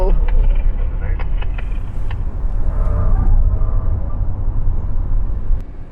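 A Tata Harrier EV electric car drives at speed, with a steady low road and wind rumble inside the cabin, loud and continuous before fading at the end, while a voice talks over it.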